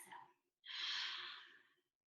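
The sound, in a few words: open-mouth exhale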